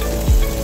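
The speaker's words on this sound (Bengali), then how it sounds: "পেঁয়াজ দিয়ে দিয়েছি, লবণ দিয়ে দেব।" Sliced onion and salt frying in hot oil, a brief close sizzle and crackle with a soft stirring scrape in the middle.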